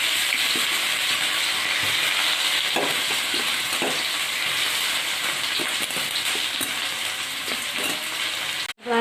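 Onion frying in heated oil, a loud, steady broadband sizzle filling the whole stretch with faint stirring clicks scattered through it, cutting off abruptly at the end.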